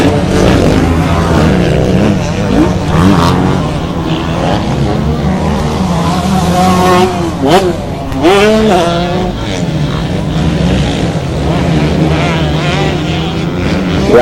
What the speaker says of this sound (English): Travis Mossad out there on a Suzuki RM125, just making that thing sing. He might not be going fast, but he sounds fast.